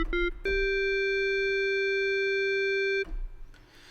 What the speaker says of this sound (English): So here we have a sine wave modulating a sine wave.